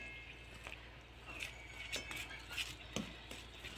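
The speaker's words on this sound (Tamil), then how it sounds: "இப்போ இதை பால் ஊற்றி கலந்து விடலாம்." A spoon stirs milk into wheat flour pancake batter flavored with ground cardamom, producing soft, faint scraping and light clinks against the bowl in an irregular rhythm, with no talking.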